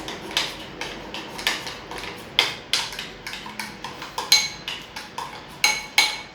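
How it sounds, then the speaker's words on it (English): Banana pancake batter stirred in a bowl with a utensil, giving a steady run of close clinks and taps against the bowl's sides, repeating about twice a second without voices. "Now we give it a good mix, not whisk,"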